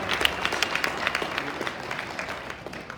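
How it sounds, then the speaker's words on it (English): Applause from an audience at an Upward-Bound induction ceremony, steady clapping throughout, moderately loud and fairly close, fading slightly toward the end. "Let's give her another round of applause."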